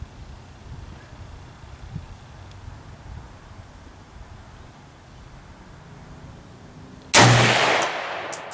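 A single loud, sharp shot from an M14A4 rifle fitted with a SIG Tango scope cracks out near the end, after several seconds of quiet outdoor background, and its echo trails off.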